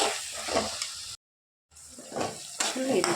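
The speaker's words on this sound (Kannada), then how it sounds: "ಇದಕ್ಕೆ ಅರಿಶಿನ, ಧನಿಯಾ ಪೌಡರ್, ಜೀರಿಗೆ ಪೌಡರ್, ಚಿಲ್ಲಿ ಪೌಡರ್ ಹಾಕಿ ಫುಲ್ಲು ಮಿಕ್ಸ್ ಮಾಡ್ಕೊಳ್ತೀನಿ" Peas in hot oil are stirred with turmeric, coriander, cumin and chilli powder, making soft sizzling and spoon-against-pan scrapes under a voice, interrupted by a short silent break.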